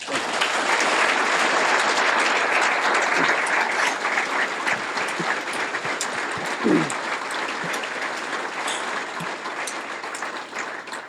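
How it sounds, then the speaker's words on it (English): Sustained applause from a large audience at a press conference introducing a new head baseball coach fills the space, a dense wash of clapping that holds steady for over ten seconds and slowly eases. "join me in giving these men a special round of applause"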